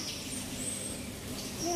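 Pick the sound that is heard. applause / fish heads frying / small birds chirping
small birds chirping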